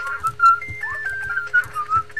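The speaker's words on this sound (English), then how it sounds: "Who's whistling?" Someone whistling a wavering, sliding melody, close and fairly clear, with soft game sounds and thumps beneath it.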